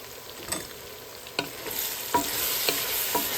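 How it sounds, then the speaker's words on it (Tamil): Curry leaves, mint and coriander leaves sauté in a hot pan, a steady sizzle broken by several sharp scrapes and knocks of a spoon stirring at irregular intervals, close and clear with no talk. "எல்லாத்தையும் போட்டு வதக்குவோம்."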